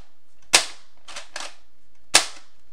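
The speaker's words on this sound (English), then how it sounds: "it's actually going to fire both the front gun and the main gun at the same time." A Nerf Longshot blaster fitted with a front gun fires three sharp, close snaps. The first and last are loud single cracks, and a quieter double snap falls between them. No one speaks.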